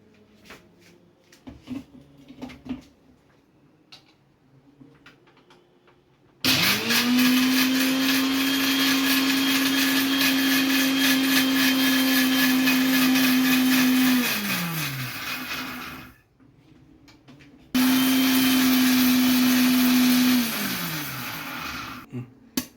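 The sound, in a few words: mixer grinder powdering dried shrimp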